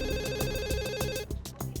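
A telephone rings in a hair salon, with a steady repeating electronic ring pattern, close and loud throughout, dropping briefly before resuming near the end.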